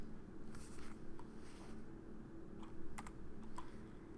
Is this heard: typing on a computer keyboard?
yes